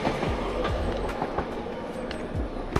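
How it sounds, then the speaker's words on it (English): A train rumbles past close by, with steady low rolling noise and sharp rhythmic clicks of wheels over rail joints. "Oh, there's a train there."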